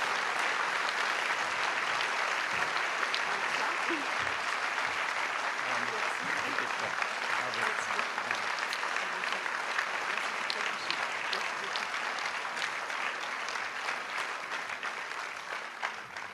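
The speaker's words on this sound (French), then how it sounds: "je vais vous demander de me rejoindre pour recevoir les applaudissements des Vallonniaises et des Vallonniers" Sustained applause from an audience at a mayor's New Year ceremony in Valognes, a steady wash of many hands clapping from a distance, continuing evenly for over fifteen seconds and fading slightly at the end.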